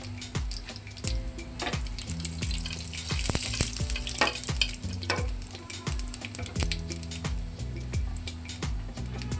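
Bay leaf, dried red chillies, five-spice mix and black cumin tempering in hot oil in a pan for a pumpkin vegetable dish: a lively sizzle with spattering crackles and repeated metallic clinks of stirring throughout.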